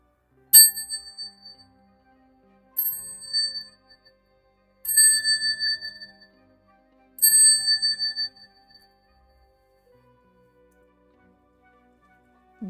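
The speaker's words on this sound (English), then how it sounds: "I'm using the bell." A bicycle-style bell rings four times, each a bright ring that fades out, with short pauses between and the last two rings longer, then near silence. No voices.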